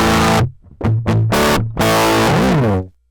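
Electric guitar runs through a Line 6 Helix Brit Trem Bright amp model, a Marshall-style tone with no cabinet. Loud, bright, raw distorted chords and short stabs ring out alone, then cut off.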